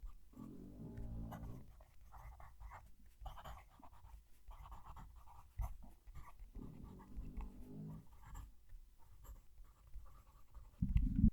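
Fountain pen nib made for TWSBI, slightly larger than a number 5, scratching across paper with the microphone held close, giving faint intermittent strokes and light feedback while a dog pants softly nearby.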